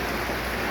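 Heavy rain pours down outdoors in a dense, steady hiss with no break, loud and close throughout.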